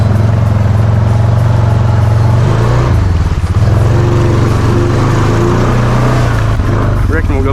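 Honda Foreman ATV fitted with a snorkel, pushing through water: a loud, steady low engine drone close up with a bit of churning and splashing over it, and a voice talking in places.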